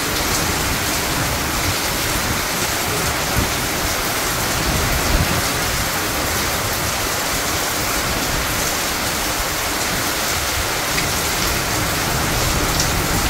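Heavy rain pours steadily outside a small restaurant near a hotel in Malaysia, a dense, unbroken hiss of drops drumming on surfaces at close range, with no voices.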